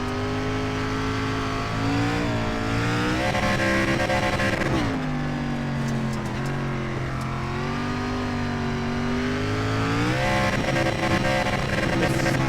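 A race car engine in iRacing's Superstar Racing Experience drones and bogs on a dirt track in third gear, a loud, steady, rough tone that sags and rises again several times as the revs dip and recover.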